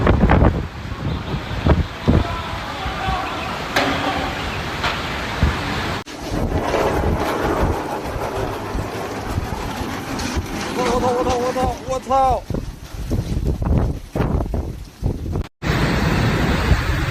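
Strong, roaring typhoon wind gusts in Shanghai buffet the microphone in sustained loud bursts, with rumbling noise throughout and faint voices underneath.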